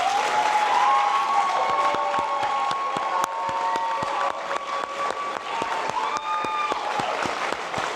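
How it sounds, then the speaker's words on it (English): A graduate hooding ceremony audience applauds. The crowd's clapping is moderate and spread out, with sharp individual claps standing out over a sustained tonal ringing in the hall. "with a round of applause"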